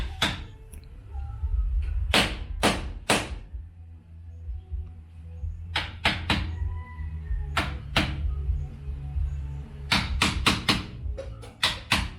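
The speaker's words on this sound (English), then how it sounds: "So Junelle is chiseling the side where the hinge is gonna be" A chisel is struck into the hinge side of a wooden front door in sharp, loud knocks, some single and some in quick bursts of two to four, with quiet gaps and low background hum between them.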